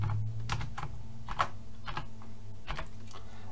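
Someone types a name on a computer keyboard, a quick uneven run of close, light key clicks over a low background hum, with no speech.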